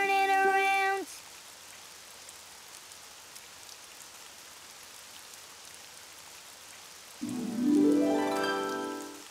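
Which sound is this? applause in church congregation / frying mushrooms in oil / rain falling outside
rain falling outside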